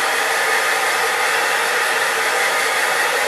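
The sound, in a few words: old blow dryer running on high heat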